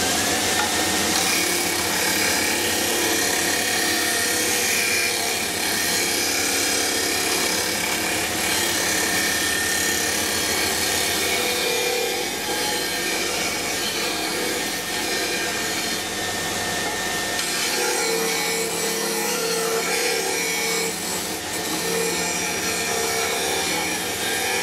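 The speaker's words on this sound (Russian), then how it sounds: "Закругление делать не на ленте буду. А вот. На круге с наждачкой." A wooden zero-clearance insert for a circular saw table is pressed against a spinning abrasive sanding wheel, producing a continuous loud grinding rasp over a steady motor whine for the full stretch, with no voices.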